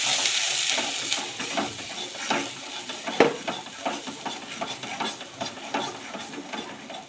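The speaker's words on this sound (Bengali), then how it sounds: "গ্যাসটাকে আস্তে দিয়ে দিয়ে ভেজে নেব" Pea filling for kachori frying in oil in a pan over low gas, a steady close sizzle with scattered stirring scrapes and one sharper clack midway, no voices.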